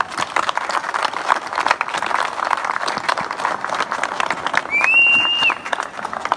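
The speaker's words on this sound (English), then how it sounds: "So please give her a round of applause." An outdoor crowd at the Rolling Thunder motorcycle rally claps for a guest, a scattered, lively applause with a sharp whistle rising partway through.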